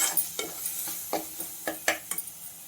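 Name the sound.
adding field beans to masala and stirring in pan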